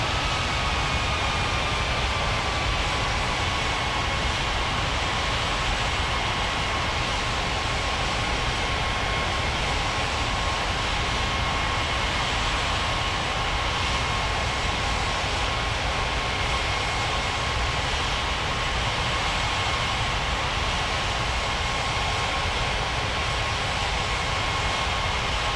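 An airliner taxis toward the runway in a flight simulator game, its jet engines giving a steady, loud, unbroken whine and roar with a faint high tone on top, holding constant throughout with no voices.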